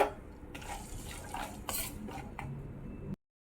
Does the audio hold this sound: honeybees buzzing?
no